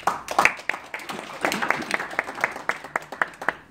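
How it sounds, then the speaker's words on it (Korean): An audience claps at a Korean commemorative gathering honouring independence-activist descendants, with brisk, fairly close handclaps for several seconds and a few voice-like tones mixed in. "다시 한번 박수해 주세요."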